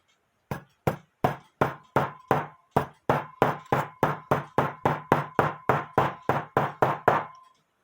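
A bushing is tapped into a cuckoo clock plate with about twenty sharp, evenly spaced knocks that quicken slightly toward the end, each a crisp metallic rap with a faint ring, close up and alone.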